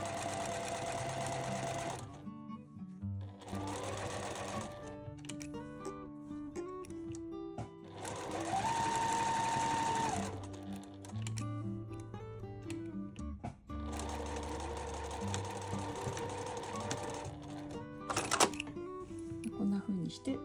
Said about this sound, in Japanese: こんな風にして何本か縫っていきます。 ミシンのステッチも柄の一部に変わっていきます。